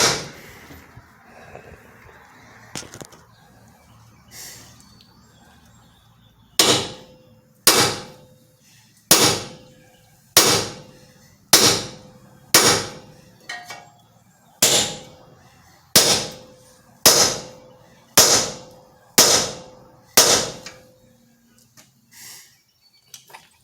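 Metal chisel hammered between a hub bearing and spindle on a 2012 Lincoln MKS, about a dozen sharp, loud, evenly spaced strikes ringing out one after another, with a few fainter taps first.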